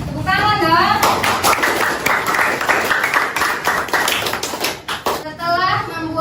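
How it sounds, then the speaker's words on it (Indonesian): Junior high school students clapping their hands together in a classroom. Sharp, fairly close claps keep a quick, uneven rhythm for about four seconds, with children's voices and a teacher's speech before and after. "Tepuk tangan dong."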